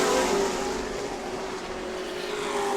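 Race cars at New Smyrna Speedway roar through the final lap of a weekly heat race, a steady dense engine drone held at a distance with a faint sustained whine running through it.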